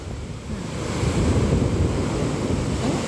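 Strong ocean waves crash on the shore at Mauban, Quezon under cloudy skies, a loud continuous surf roar swelling midway and mixed with heavy wind buffeting the microphone.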